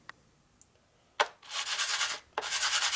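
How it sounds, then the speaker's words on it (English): A hard steel part from a 1961 Harley-Davidson FL 74ci panhead motor is scraped back and forth on an abrasive surface, a sharp tap followed by two long gritty rubbing strokes, close and fairly loud. "You can rub on this all day with this gear, it barely even cut anything"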